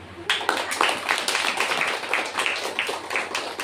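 Congregation in a church clapping their hands, a lively, continuous patter of many claps at a fairly even rhythm, with a faint voice mixed in underneath.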